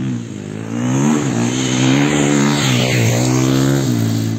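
A training motorcycle runs close by on a track, its engine a steady loud drone with a rising and falling pitch, heard alone without voices.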